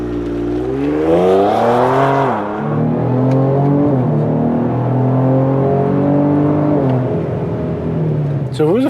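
A Ford Explorer fitted with a cold air intake revs in sport mode, its engine rising and falling in pitch through several accelerations, with talk heard over the engine.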